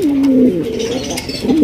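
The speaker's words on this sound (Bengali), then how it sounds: "ব্ল্যাক কালারের একজোড়া শৌখিন কবুতর পাইতেছেন" A pair of jet-black fancy pigeons coo clearly and close, with a soft warbling call that rises and settles over a faint background murmur.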